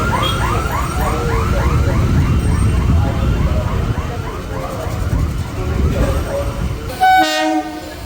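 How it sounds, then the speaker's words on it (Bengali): An Indian Railways local train heading toward Ranaghat Junction rumbles past loudly and close, its horn wailing in repeated rising and falling blasts, then a final sharp horn note near the end. "সামনে দিয়ে দেখা যাচ্ছে একটি লোকাল ট্রেন আসছে রানাঘাট জংশনের দিকে"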